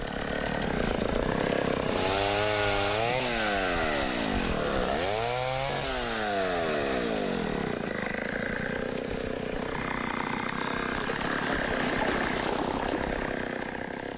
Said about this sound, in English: they keep the chainsaw close at hand